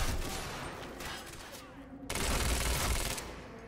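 Rapid SMG fire rattles in dense, loud continuous bursts in the video game Quantum Break, one stream briefly easing before a second heavier volley kicks in.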